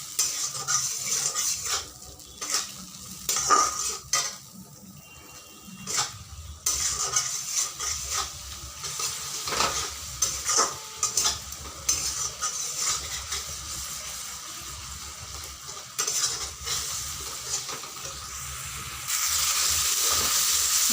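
Spices being stir-fried in oil in a pan for an egg curry, with repeated scraping spoon strokes and clinks against the pan over a soft, steady sizzle, the stirring coming in irregular bursts close by.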